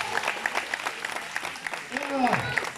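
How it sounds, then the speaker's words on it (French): Scattered clapping at an outdoor soapbox pushcar race prize-giving, a thin patter of hand claps with people talking over it nearby. "Bravo, applaudis."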